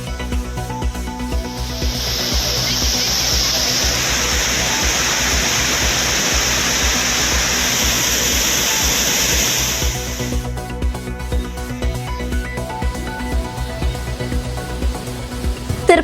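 Roaring water at Courtallam falls, a broad steady rushing hiss that stays loud for several seconds before dropping away into a lower background with a faint tonal hum.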